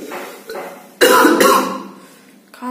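A person coughs close to the microphone, a sharp burst of two or three harsh coughs followed by a softer trailing breath.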